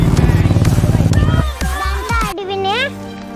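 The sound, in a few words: motorcycles passing on a road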